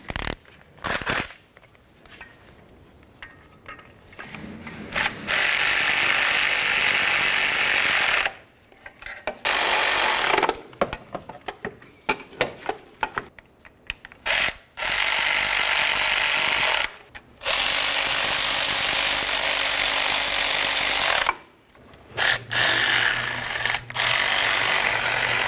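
Ratchet clicking in repeated bursts while tightening exhaust manifold bolts on a 2006–2012 Ford Fusion, with short pauses between fast metallic runs.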